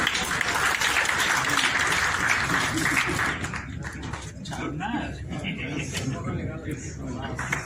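An audience at an Indo-Canada trade and export meet breaks into applause that is strong for about three seconds, then thins as a speaker's voice takes over.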